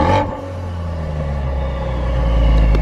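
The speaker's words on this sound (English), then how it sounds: "Give it a little rev." An Audi RS fitted with a loud exhaust rumbles at idle with a deep, steady drone that swells slightly near the end, heard up close.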